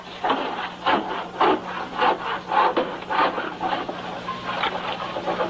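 In a dubbed Western film scene, rhythmic rasping strokes of a handsaw cutting wood, close by, each pull and push clearly spaced about half a second apart.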